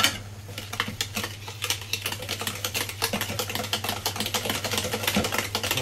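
Chestnut flour being whisked into cold milk for a Corsican chestnut flan, a quick rapid clicking and tapping of a utensil against a bowl, close and steady throughout with a low constant hum beneath.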